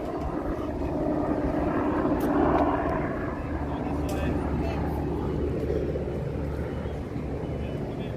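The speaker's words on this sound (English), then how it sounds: "There's a helicopter going across there." A distant helicopter drones steadily in the background over Lincoln Park, Chicago, a faint broad rumble swelling slightly then holding, with other outdoor noise mixed in.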